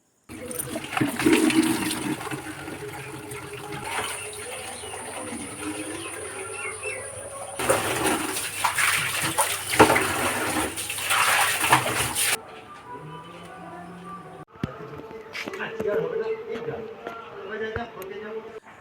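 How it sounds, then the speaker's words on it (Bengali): Drinking water runs from a household tap into a container, a steady gushing stream with pauses and shifts, while someone talks over it and birds faintly call nearby. "এখানে খাবার জলটা তুলে নিচ্ছি"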